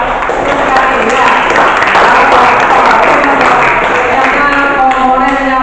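Classroom applause for a student's correct answer, a dense, steady wash of many hands clapping throughout, with people talking underneath.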